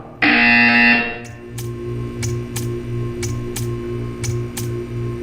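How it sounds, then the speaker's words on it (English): A loud harsh buzzer blares for about a second, followed by a low hum with faint ticking clicks. "You will hear a buzzer."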